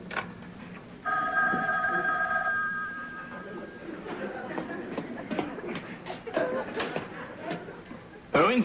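A telephone rings with a steady tonal trill, followed by shuffling and background speech, then a brief louder burst at the end.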